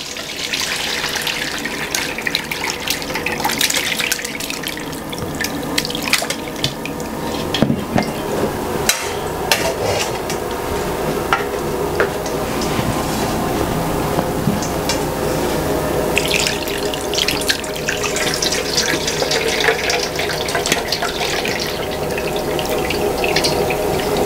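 Liquid for palm date jelly being poured slowly through a strainer, a steady close trickle and splash with scattered clinks and taps running throughout.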